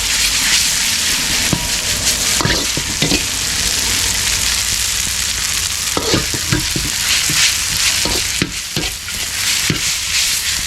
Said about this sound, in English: stir it until it gets a bit soft